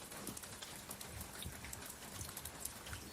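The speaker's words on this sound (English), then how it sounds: "Now it's starting to rain really hard, but still no hail" Steady, dense rain pouring down, a constant broadband hiss with scattered drop patter and no voices.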